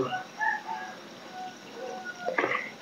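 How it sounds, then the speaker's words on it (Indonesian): Rooster crowing in a quiet village, a single moderately distant crow over a faint, still background with some other small bird-like calls. "hanya ada suara ayam dan suara anjing ya teman-teman"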